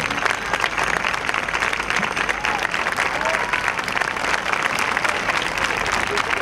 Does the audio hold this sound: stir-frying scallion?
no